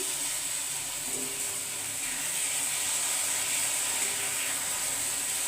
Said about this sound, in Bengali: আমি সেই পনিরটাকে একটু হালকা করে ভেজে দিচ্ছি।